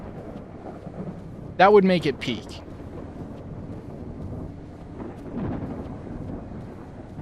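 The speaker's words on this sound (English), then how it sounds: "So are you going to show us the storm outside?" A thunderstorm rumbles outside in the video game Escape the Backrooms, low and distant, swelling briefly near the end, while a person speaks and exclaims over it.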